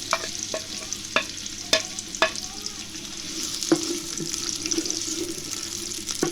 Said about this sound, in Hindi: इन प्याज को अब हम गोल्डन फ्राई करेंगे